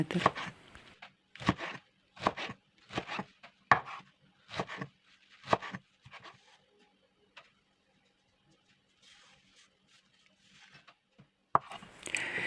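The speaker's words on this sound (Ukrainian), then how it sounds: "Черемшу нарізаю завдовжки 1 см." A knife chops wild garlic leaves on a board in a run of quick, crisp cuts, pausing midway before a few more soft chops; quiet and close.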